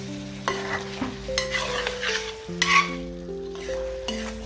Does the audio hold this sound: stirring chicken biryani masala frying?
yes